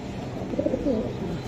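Giribaz high-flying racing pigeons give a brief, faint low coo, soft and close, over a muted background with no speech.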